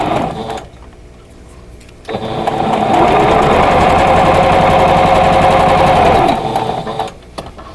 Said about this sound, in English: I'm going to sew on the drawn line here and go all the way around